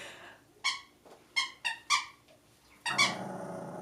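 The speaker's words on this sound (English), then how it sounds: "So my dog has a squeaky toy." About five short, high squeaks from a squeaky toy, sharp and close, in uneven bursts with pauses between them, the last one longer.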